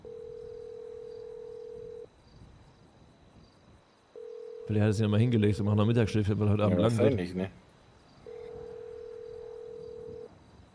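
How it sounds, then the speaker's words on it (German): Ringback tone of an outgoing phone call in the video game GTA 5, long steady beeps repeating with gaps, a voice talking between two beeps. "Geh nicht ans Telefon."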